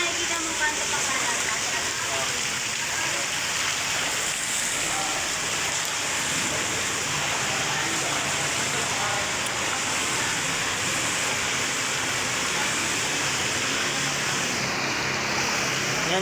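Deep flood water rushes through a street in a steady, loud, unbroken roar lasting the whole stretch, with no pauses.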